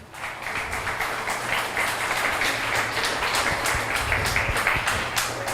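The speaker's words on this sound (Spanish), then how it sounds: "Dele un aplauso al Señor." A church congregation applauding, a steady sustained round of many hands clapping with rhythmic accents throughout.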